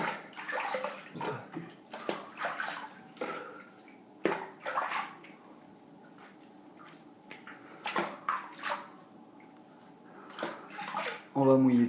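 Water runs from a tap to wet the face and brush for a traditional wet shave, a steady hiss broken by splashes and sloshing, with someone speaking over it.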